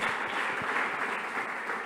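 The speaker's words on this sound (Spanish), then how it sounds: "Denle un aplauso al Señor" A church congregation breaks into dense, steady applause, many hands clapping together in a continuous wash with no talk.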